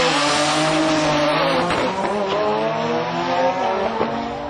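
A Toyota Supra drag car with a 3.1 engine and twin HKS 3240 turbos screams past at full throttle during a drag meet, its engine note climbing sharply through the gears, loud and close with no talk.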